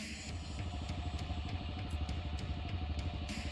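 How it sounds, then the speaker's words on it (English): An idling engine in a visual novel game scene at a mine, a steady low rhythmic chugging with light mechanical clatter, continuous and moderately quiet, with faint ticking overhead and no voices. "what is this sound I hear faintly above the commotion at the mine? An idling engine?"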